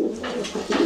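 Fancy pigeons kept for sale give a close, fairly loud throaty coo, a brief rolling call that swells and repeats within a second.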